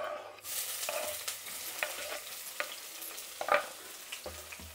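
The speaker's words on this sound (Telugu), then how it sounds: "ఎర్రగడ్డలు బాగా బ్రౌన్ కలర్ రావాలండి, అంతవరకు వేయించుకోవాలి" Onions frying in oil in a kadai give a steady, close sizzle, broken by scattered stirring scrapes and clinks from the spoon; no voices.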